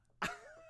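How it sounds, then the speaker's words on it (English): A single short, sharp throat clear, close and fairly quiet, followed by a faint fading tone. "Clear your throat."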